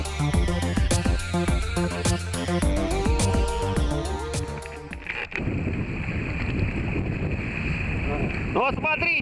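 Strong wind at a spearfishing spot buffets the microphone with a heavy, roaring rush, following a few seconds of tonal, music-like sound.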